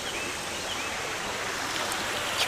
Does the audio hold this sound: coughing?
no